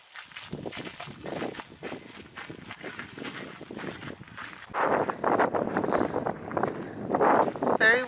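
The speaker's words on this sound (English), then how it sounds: "It's very windy today." Gusty wind buffeting the microphone on a hiking trail at Lake Mead, rising louder in the second half, with footsteps and people talking throughout.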